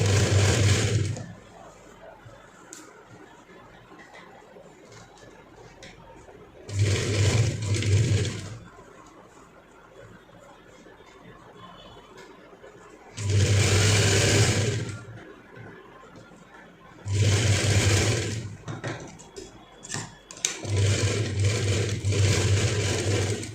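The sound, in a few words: sewing machine stitching the side seam of a baby frock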